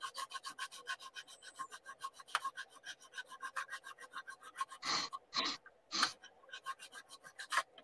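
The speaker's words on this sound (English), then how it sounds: "Out comes the multi-tool. The 120 grit." A multi-tool fitted with 120-grit sandpaper gives a faint, rhythmic rasping scratch across a workpiece, with a few louder scraping bursts near the end.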